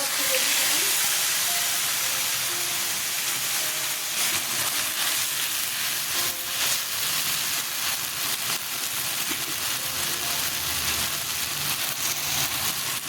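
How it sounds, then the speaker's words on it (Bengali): Dried red chillies, bay leaf and ginger-chilli paste hitting hot oil in a pan for a vegetarian coconut and chickpea dish, a loud continuous close sizzle and hiss with crackles throughout. "তেল গরম হয়ে গেছে ফোড়ন দিয়ে দিচ্ছি শুকনো লঙ্কা তেজপাতা আর এই আদা লঙ্কা বাটা"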